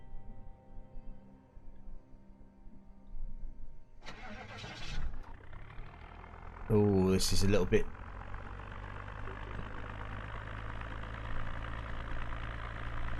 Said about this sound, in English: I'm going to hotwire this engine